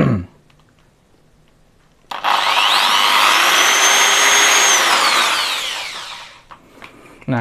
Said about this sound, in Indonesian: Kalau pakai ini saya coba bor lagi.